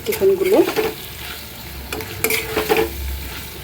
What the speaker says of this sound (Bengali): এখানে আমি চিকেন দিয়ে এখন ভাজা ভাজা করবো আর কি